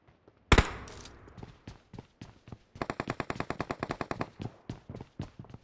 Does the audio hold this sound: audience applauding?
no